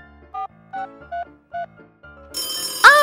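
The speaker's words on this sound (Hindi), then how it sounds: "टेलीफोन बज रहा है।" A telephone rings in a cartoon-style house scene, with four short, evenly spaced electronic ring tones followed by a louder, warbling ringtone burst at the end.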